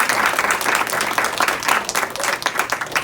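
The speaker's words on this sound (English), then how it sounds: "please, a round of applause for Rema" A gathering at a brewery's tenth anniversary celebration claps loudly for a staff member, brisk uneven applause with a few standout claps that begins to taper near the end.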